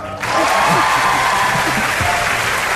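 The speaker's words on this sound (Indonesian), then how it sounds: "harus tepuk tangan buat binus" Audience applause for Binus students at a campus talk show event, a broad steady wash of clapping with a voice briefly audible beneath it.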